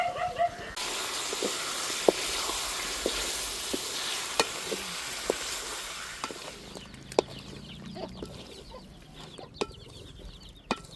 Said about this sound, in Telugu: ఇందులో కొద్దిగా పసుపు వేస్తున్నా మసాలా పసుపు ముక్కలు బాగా పట్టేలాగా కలుపుతాను